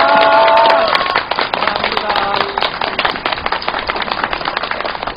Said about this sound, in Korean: 우리 선생님한테 큰 박수 한번 부탁드리겠습니다